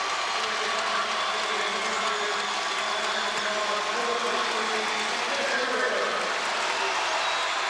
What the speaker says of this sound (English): Big hand for everybody. Lots of applause to go around tonight.